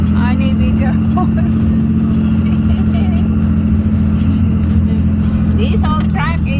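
Truck driving through a snowstorm in Arkansas, a steady low engine rumble and road noise throughout, with people talking over it now and then.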